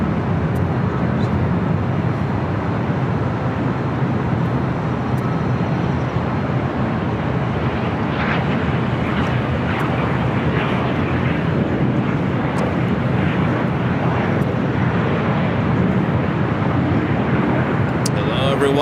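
Airliner landing on runway 24 right at LAX, a steady broad jet roar close and loud throughout, with people talking over it.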